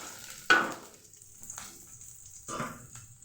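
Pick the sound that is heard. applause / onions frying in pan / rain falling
onions frying in pan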